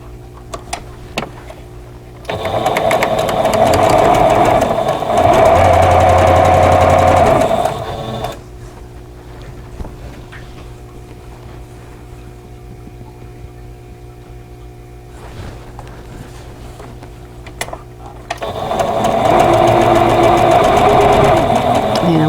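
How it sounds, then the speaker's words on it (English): Sewing machine stitching pieces of a vintage quilt block, two loud close bursts of steady whirring motor run separated by a quieter pause with low background hum. "And then I'll sew on the last piece of each row."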